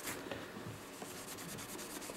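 Knife blade being hand-polished with Flitz abrasive paste to remove surface rust speckling, producing a steady, close scratchy rubbing with a few quick strokes.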